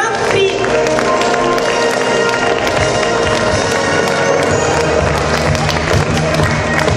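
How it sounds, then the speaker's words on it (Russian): Dense, loud applause fills a gala concert hall at a festival, steady sustained clapping from a large audience with crowd noise and a voice mixed in. "Громче, громче, ваши аплодисменты."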